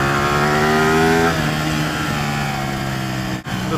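A Ducati 899 Panigale sports bike engine runs nearby with a loud, steady droning hum. The revs dip after about a second and settle to a lower, even idle.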